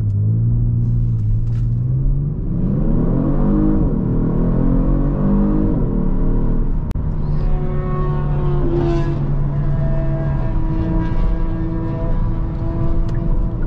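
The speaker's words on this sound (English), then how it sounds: "Let's actually go ahead and put it in sport mode now and do a quick acceleration." A Genesis G70 RWD in sport mode accelerates hard, its engine note climbing through a gear, dipping at a shift, then droning again, loud and continuous inside the cabin.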